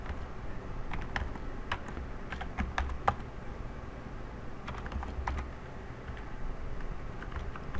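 Fast keystrokes on a computer keyboard while code is written, with bursts of close clicking over a steady low room hum and no speech.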